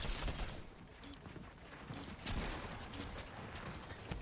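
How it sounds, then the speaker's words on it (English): A minigun fires in the shooter game Reload as one dense, continuous stream of rapid gunfire that stays loud and steady from start to finish. "Oh, minigun! Minigun, let's go."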